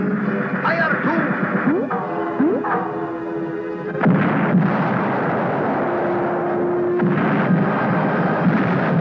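Cartoon naval weapons fire in a Captain Fathom adventure, with bursts and booms following shouted commands, heavy layered effects and music throughout, loud and continuous under character voices.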